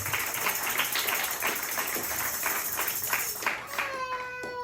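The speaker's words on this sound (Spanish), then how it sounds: "Dele palmas al Cristo de gloria." Church congregation clapping hands together during a sermon, a dense rapid patter of many hands under steady room noise, with a brief tonal sweep near the end.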